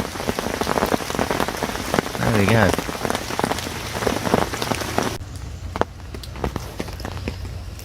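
Rain pours steadily onto a fishing lake and the surrounding surfaces, a dense, loud patter of drops with occasional heavier splats and a brief rustle; someone speaks a few words partway through.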